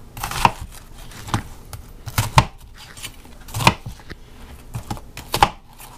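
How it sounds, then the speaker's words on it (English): Big chunks of onion being chopped with a knife, a steady series of sharp, distinct knife strokes against a board, close and fairly loud with no talking. "Cut your onions in big chunks"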